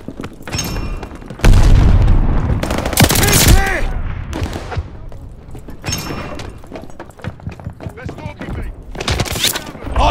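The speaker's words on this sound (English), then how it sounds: "Throwing grenade." A Call of Duty Vanguard match in which a grenade blast booms amid bursts of gunfire, with loud close explosions and scattered shots, while voices talk over the battle.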